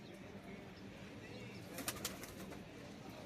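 A low, steady background of pigeons in a large loft in Kuwait, with faint cooing and a brief flutter of wings near the middle.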